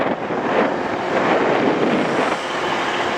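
Class 800 unit 800105 pulls away from York station, a broad rushing roar with wind buffeting the microphone, steady and fairly close for a few seconds.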